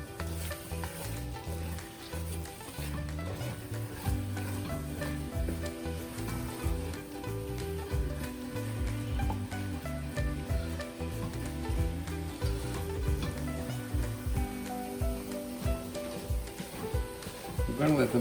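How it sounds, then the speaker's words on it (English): Eggs sizzling and frying steadily in a pan, a dense continuous crackle at moderate loudness with faint stirring and background music layered over it. "our eggs already started to cook"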